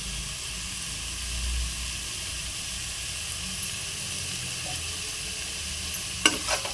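Yogurt is stirred into chicken biryani masala in a pan, which gives a soft, steady sizzle and hiss. A few scraping clinks of a utensil come near the end.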